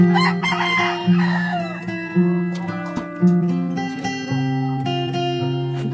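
A rooster crows loudly and close, a long drawn-out call with harmonic tones, followed by a few shorter clucking notes.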